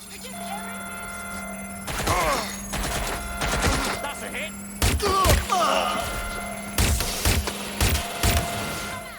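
Watch Dogs Legion gunfire with sharp, clustered shots and rapid bursts over a steady electronic hum, with someone talking throughout.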